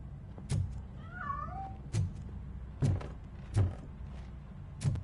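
A cat in Robocop Rogue City meows in rising and falling cries. Several dull thumps follow at spaced intervals as it scrambles and escapes, all over a low ambient hum.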